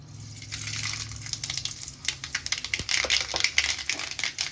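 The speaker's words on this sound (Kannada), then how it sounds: "ಆಯಿಲ್ ಕೂಡ ಬಿಸಿಯಾಗಿದೆ. ಇವಾಗ ನಾನು ಸಾಸಿವೆ ಜೀರಿಗೆ ಹಾಕ್ಕೊತೀನಿ." Mustard seeds and cumin dropped into hot oil for chapati masala fry, giving a loud spitting sizzle with crackling pops that build and sharpen over a few seconds, no talking.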